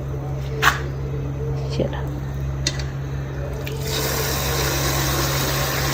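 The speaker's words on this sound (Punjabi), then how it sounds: "ਹੁਣ ਸਾਡੀ ਮੰਮੀ ਜੀ ਹੱਥ ਕਿੱਦਾਂ ਧੋਣੇ ਆ" Hands are washed with water drawn from a bucket. A few soft knocks give way to a steady gushing rush of water, close by, over a constant low hum.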